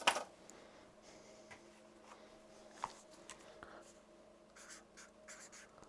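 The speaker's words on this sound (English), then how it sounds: "I'll just write that on the foam, and also make a note of it." A marker writing on foam for a CNC foam cutter setup, soft continuous scratchy strokes with a sharp tap at the start, close and quiet, no talk.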